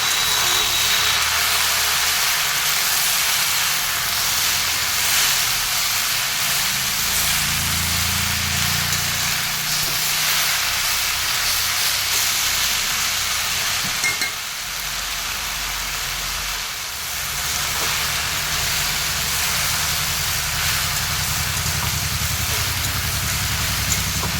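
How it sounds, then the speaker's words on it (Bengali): Boiled water spinach (kalmi shak) fries in a pan with dried red chillies, cumin and five-spice, giving a steady, loud, rain-like sizzle that continues throughout with slight dips. "এরপরে আমি সেদ্ধ শাকগুলো দিয়ে 5 মিনিট মতো ভাজবো"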